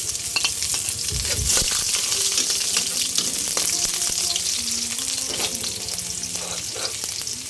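Garlic and onion frying in very hot oil in a pan, a dense, steady sizzle with a high crackling hiss, occasional stirring scrapes and clinks, close and fairly loud throughout.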